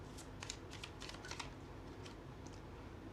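Tarot cards being shuffled and drawn make soft, quick flicking and riffling taps in short clusters, faint and close over a low background hum, with no one talking.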